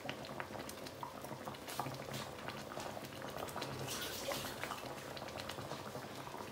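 Fonio mafé with peanut sauce simmers on low heat, giving off a soft, steady bubbling and popping that goes on throughout with no voices.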